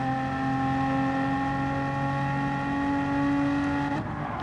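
A BMW M4 Gr.4 race car in Gran Turismo 7 at Interlagos holds a loud, steady engine drone with strong harmonic tones, then abruptly lifts off near the end as the note drops.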